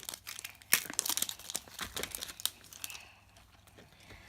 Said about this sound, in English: Here goes the zipper.